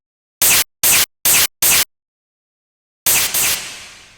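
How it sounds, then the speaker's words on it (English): Bit-crushed, filtered clap-like hits from a Cubase sampler track: four short bright noisy bursts in an even rhythm, a pause, then two more that decay into a longer reverberant tail, loud and alone. "it's the bit crushing in the filter that's creating that kind of clappy sound"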